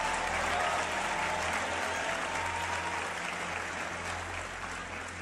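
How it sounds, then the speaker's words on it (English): Dense, loud applause from a large audience at a motivational speaking event, sustained evenly for the full five seconds with a low hum underneath and no speech over it. "Let's give him another tremendous round of applause."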